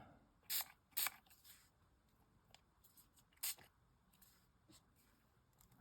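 A few short bursts of ink spray hiss, two close together early and one more a few seconds later, with quiet handling noises between them.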